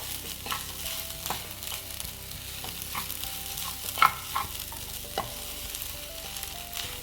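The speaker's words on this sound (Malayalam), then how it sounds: "തോരനും മുട്ടയും എല്ലാം കൂടി ഒന്ന് മിക്സ് ചെയ്തെടുക്കാം." Egg and taro-leaf thoran being stirred together in a frying pan, with a soft steady sizzle under repeated scraping and clinking of a spatula, one sharper knock partway through; no voices.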